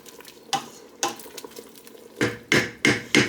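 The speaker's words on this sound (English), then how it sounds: "Now our final act of love for this soup is to add the cheese. Stir it in." Cheese being stirred into a pot of vegan broccoli cheddar soup: several sharp spoon strokes against the pot, spaced out at first and then coming in a quicker run of louder knocks and scrapes near the end, with no talking.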